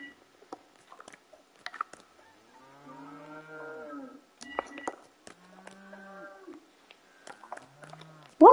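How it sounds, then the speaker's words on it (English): Several drawn-out cow moos from the Fortnite LEGO video game sound at a moderate level, separated by short clicks and game noises, with a sharp loud burst at the very end. "It's a cow."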